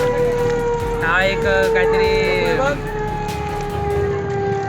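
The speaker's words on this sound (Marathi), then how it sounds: "हा कसला तरी सायरन वाजतोय काहीतरी आलाम आहे" A steady, droning boat siren tone, a coastal police signal near Alibaug, sounds throughout while people talk over it.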